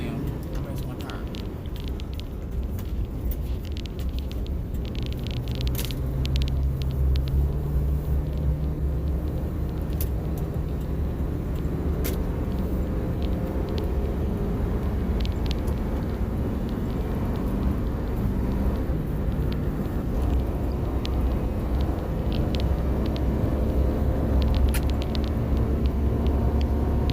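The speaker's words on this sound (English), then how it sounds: "I ain't ran this old truck like that in a long time." An old truck's engine runs steadily while driving, a continuous low rumble and drone that rises slightly partway through, with road noise and someone talking over it at times.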